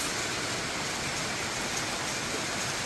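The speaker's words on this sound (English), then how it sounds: "I think we're just going to take a little bit of a break whilst this rain shower stops" Steady, dense rain shower falling in a Costa Rica rainforest at a house-building site, a loud continuous hiss of water on foliage and ground with no voices.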